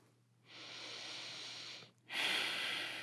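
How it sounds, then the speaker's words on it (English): Deep, steady breathing during a yoga lunge: a long, close airy exhale followed by a brief pause and a louder, stronger breath, with no talking. "Breathing deeply here."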